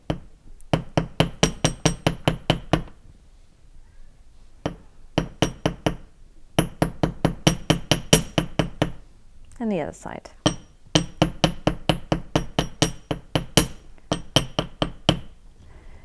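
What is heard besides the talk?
metal hammer hammering wire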